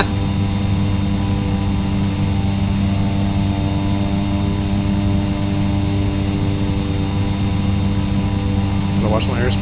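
A Carenado Cessna C208 turboprop in the X-Plane 11 flight simulator during a soft-field takeoff, giving a steady, loud engine and propeller drone with strong tonal hum that holds throughout, and a voice briefly talking over it near the end.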